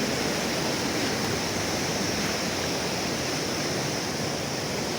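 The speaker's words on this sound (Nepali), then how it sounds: "खोला उर्लिएर कत्रो आइरहेको हेर नि त" A swollen khola (stream) in spate, rushing in a dense, unbroken roar of turbulent water, loud and close, steady throughout with no voices.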